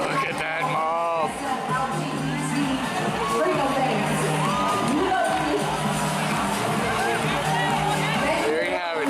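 A big crowd at the 2017 San Francisco Dyke March cheers, whoops and shouts, a dense, continuous roar of voices and chatter with people talking nearby throughout.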